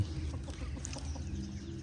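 Chickens on a Thai rural homestead cluck softly in a brief, faint stretch, with a few short calls over low background rumble.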